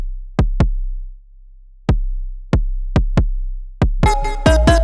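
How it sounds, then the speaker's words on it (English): A synthesized sub kick drum made in Massive thumps in a sparse pattern of deep booming hits, loud and alone, before a bright synth melody joins near the end. "we're going to make this sub kick"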